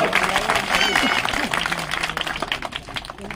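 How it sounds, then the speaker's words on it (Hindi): A crowd at a village election rally in Haryana applauds loudly, a thick burst of many hands clapping with voices underneath, gradually thinning toward the end. "एक बार जोर से तालियां।"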